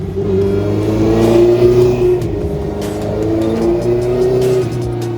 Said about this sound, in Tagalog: A twist of the throttle rewards riders with crisp throttle response and addictive intake and exhaust sounds, delivering a thrilling growl as rev climbs.